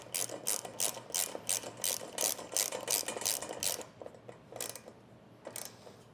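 A ratcheting wrench clicks in quick repeated bursts while roof rack bolts are snugged down on a Toyota Tundra, a close, crisp clatter of strokes that pauses and resumes with no talking.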